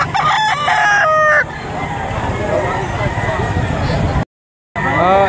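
A gamefowl rooster crows loudly at a cockfighting-bird auction, one drawn-out crow at the start and another beginning at the end, over steady background crowd noise and voices.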